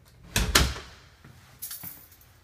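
An interior door inside a house with dirty walls, near a linen closet, opens or shuts with two close, loud knocks, then a softer bump a second later, with no talking.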